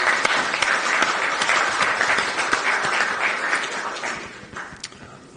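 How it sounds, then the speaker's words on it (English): Conference audience at the ULD CARE 2024 event in Istanbul gives sponsors a dense, sustained round of applause from many hands, steady throughout and tapering slightly near the end. "So again, a round of applause for these guys."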